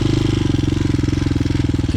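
Motorcycle engine running steadily and loud during low-speed riding skill exercises, a continuous pulsing idle-to-low-rev throb with a regular rhythm throughout, no talk.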